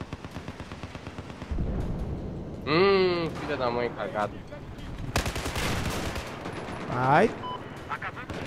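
Rapid gunfire bursts crack from a Battlefield 4 match, loud and repeated over several seconds, while a player talks and exclaims over the shooting.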